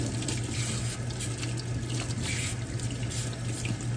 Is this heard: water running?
yes